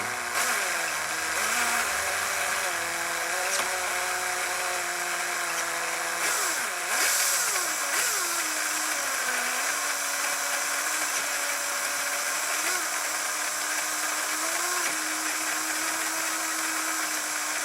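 An SCX10 Cherokee RC crawler running in two-wheel drive gives a steady high electric motor whine that rises and falls in pitch as it drives, with gear noise throughout and no talking.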